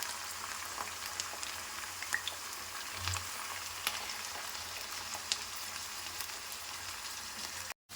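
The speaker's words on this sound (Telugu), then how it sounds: "ఇవి దీంట్లో వేసేసుకొని ఫ్రై చేసేసుకుందాం." Ivy gourd pieces cut lengthwise frying in oil in a pan, a steady soft sizzle with faint crackles and pops throughout, close and alone without talk.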